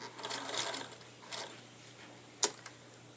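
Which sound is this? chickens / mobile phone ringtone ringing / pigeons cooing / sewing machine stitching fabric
sewing machine stitching fabric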